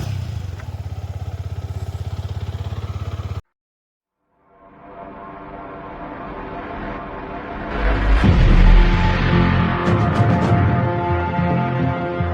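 A motorcycle engine with a faulty self-starter motor is heard: a steady idle that cuts out into silence, then restarts and revs up into a louder, rougher roar with some mechanical clatter, close by.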